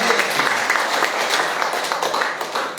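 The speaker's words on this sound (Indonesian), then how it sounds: "Tepuk tangan bagi Allah." A church congregation applauds during a sermon, a dense, steady wash of many hands clapping at once that holds at an even level for the whole stretch.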